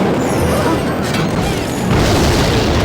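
A rocket spell detonates in a card battle video game, a loud booming explosion with a crashing burst that rumbles on through the short clip.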